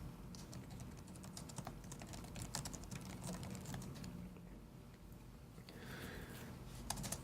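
Steady typing on a computer keyboard, quick light key clicks running continuously at close range while a message is written out, with no one speaking.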